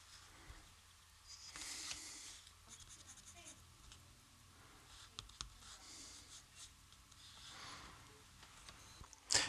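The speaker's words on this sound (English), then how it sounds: "I've just been around the picture with this nice soft 3B pencil, and I've just firmed up the lines" A soft 3B pencil sketching over a watercolour painting of a Morris Minor, with faint scratchy strokes and light taps at close range, quiet throughout.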